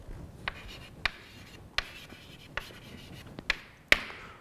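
Chalk or marker strokes on a board during a physics lecture on Standard Model theory, several sharp taps and short scratchy writing strokes spaced irregularly in a quiet room, with no talking.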